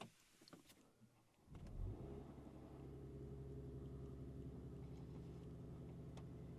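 A 2025 Mercedes-AMG CLE 53 Cabrio's six-cylinder engine cranks and fires with a quick rising rev around two seconds in, then settles into a steady, smooth idle rumble heard from inside the car.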